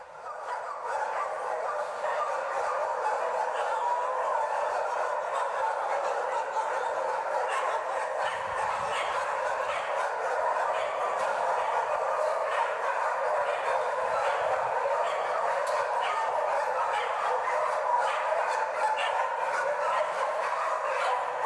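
Many dogs bark together in a crowded shelter warehouse in Bulgaria, a dense, steady chorus of overlapping barks and yips that runs unbroken and fairly loud for the whole stretch.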